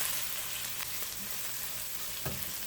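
Finely grated garlic frying in a pan while making saltfish and tomatoes, a steady close sizzle running throughout with a faint stir around the middle and end.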